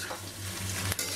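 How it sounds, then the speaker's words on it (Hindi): Cut lauki muthiya pieces stirred in a pan, a constant close sizzle with a quick metallic scrape of a utensil near the end. "थोड़ा थोड़ा करकर हम सारा कटा हुआ मुठिया इसमें डाल देंगे और अच्छी तरह से इनको मिक्स कर लेंगे"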